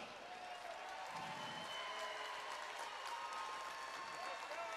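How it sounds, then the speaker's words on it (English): A crowd at an amateur fight night gives steady, muffled applause for both fighters after the bouts, with a constant wash of claps and a voice talking over it. "I want you to give a round of applause to both these guys"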